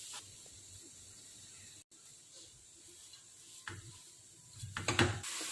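Chopped spinach goes into hot coconut oil in a pan, a steady faint hiss that swells into louder crackling sizzle toward the end.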